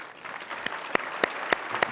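Sparse clapping from an audience at a talk, soft scattered claps building into a few sharp, evenly spaced loud claps about a third of a second apart.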